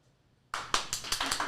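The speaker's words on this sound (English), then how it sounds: "The clapping motivator?" Sudden burst of hand clapping in a live radio studio during a morning show, several quick claps close by following a brief quiet pause.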